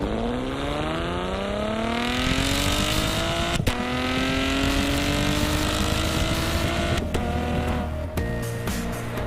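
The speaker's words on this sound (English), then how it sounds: "unexpectedly vicious exhaust note, particularly during full-throttle gear changes" A 2017 Chevrolet Camaro V6 exhaust roars, climbing steadily in pitch under hard acceleration, with brief crackling breaks at full-throttle gear shifts, loud and sustained.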